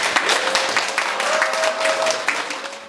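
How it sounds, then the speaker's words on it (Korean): Audience applause at a parents' association delegates' general assembly, a dense, continuous patter of many hands, fairly loud and steady from start to finish. "큰 박수 부탁드립니다."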